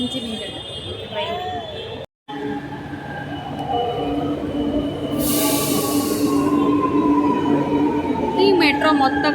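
Metro train running inside a mall, a close continuous rumble with long whining tones and faint wheel squeals, broken once by a brief gap, with occasional voices.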